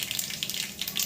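Cumin, mustard seeds and ridge gourd pieces sizzle in hot oil, a brief close crackling hiss with small popping bursts.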